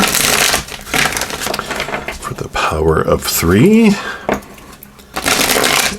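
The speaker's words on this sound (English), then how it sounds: "So let's give it 3 shuffles here" Oracle cards from the Power of Surrender deck are shuffled in three rounds, giving dense papery riffling bursts at the start and end with a voice talking in between.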